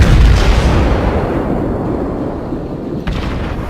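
A heavy, rumbling salvo from the main guns of the battleship Arkansas in World of Warships, a loud low boom that rolls and decays over several seconds.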